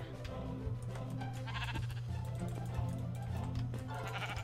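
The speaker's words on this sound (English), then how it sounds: "Pick up the sheep!" Sheep in the video game Minecraft bleat in short repeated cries over a steady low hum, with game sounds and faint voices mixed in.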